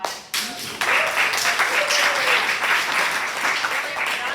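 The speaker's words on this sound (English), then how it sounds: "Can I get like, I don't know, like a round of applause if you thought?" A room full of attendees breaks into a round of applause after a conference talk, building quickly into a lively, dense clatter of hands with some voices mixed in.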